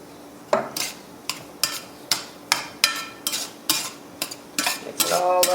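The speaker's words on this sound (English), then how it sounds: "Mix it all up real good." Tofu scramble with onions and peppers being stirred in a pan, a utensil scraping and knocking against the metal in a steady rhythm of about a dozen strokes, close and fairly loud over a faint sizzle.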